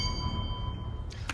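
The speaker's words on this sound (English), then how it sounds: "The bell went before you could actually complete the lyric" A quiz game bell rings once near the end, a short bright ding over low background hum.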